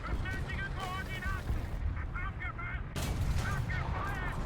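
Gunfire and artillery from a War Thunder tank battle rumble in a dense, continuous barrage under steady talk, with bursts of shooting throughout.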